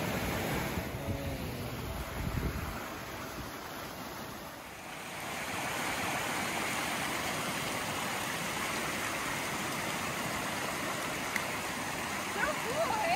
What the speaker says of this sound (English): You got a creek. And a river.